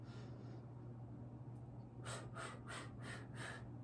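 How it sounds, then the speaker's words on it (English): Soft, close breathing during a Pilates ring exercise: a faint exhale early on, then a series of about five short, rhythmic breaths over a steady low background hum. "and you're going to breathe"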